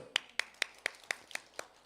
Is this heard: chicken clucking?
no